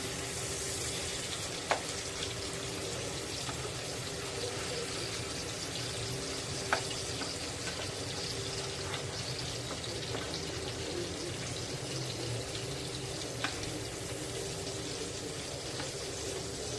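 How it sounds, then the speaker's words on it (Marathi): Pieces of halwa fish frying in a pan on a low flame, a quiet, steady sizzle with a few faint clicks spread across it, no voices. "तर आता पाच मिनटं पुन्हा मंद आचेवर फ्राय करून घेऊया"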